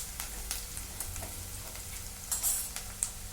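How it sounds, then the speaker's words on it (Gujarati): Onions with fenugreek and gram flour frying slowly in a pan over a medium gas flame, giving a steady close sizzle with light stirring ticks. "અને આ બધું મીડિયમ ગેસ ઉપર ધીમે ધીમે શેકાવા દઈશું"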